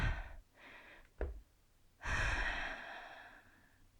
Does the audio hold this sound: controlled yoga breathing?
yes